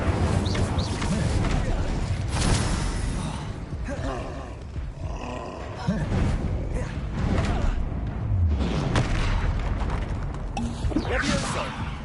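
Incendio fire spell bursts in Hogwarts Legacy, roaring flame blasts repeating through a busy stretch of combat with rumbling impacts, loud and close, some voices heard over the din.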